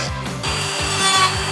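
A power tool cuts through the front guard of a Nissan Patrol to fit a snorkel, a loud close whirring with a rhythmic pulsing grind.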